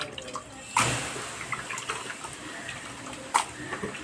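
Water running and dripping from washed prawns in a colander, a soft continuous trickle with two sharper splashes, close by and quiet, with no talking.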